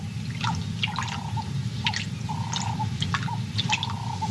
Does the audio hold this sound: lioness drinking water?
yes